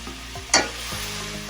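Duck meat stir-fried with ginger and garlic in a hot pan, a close, continuous sizzle with a sharp scrape of the spatula midway.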